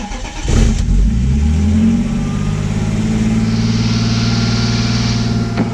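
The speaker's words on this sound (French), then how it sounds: "maintenant ça va être le moment de vérité, on va démarrer la voiture." A BMW E30 engine cranks and catches, then revs hard and settles into a loud, steady idle close by, with a rising whine later on.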